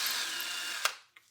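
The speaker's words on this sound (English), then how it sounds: "and we just drill it out like that" A power drill whirs steadily for about a second, drilling out a phonograph spring barrel, then winds down and stops, followed by a brief faint click.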